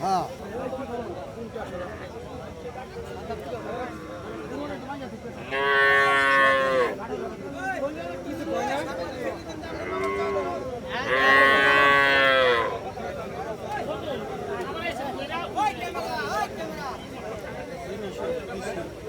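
At a cattle market in Jamalpur, Bangladesh, two loud, drawn-out moos from cattle, a few seconds apart, rise over a steady murmur of crowd chatter and background voices.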